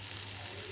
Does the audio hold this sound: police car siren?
no